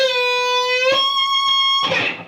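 A clean electric guitar note bends up and releases, then a sharp tapped note rings out, followed by another quick bend with a brighter, noisier attack.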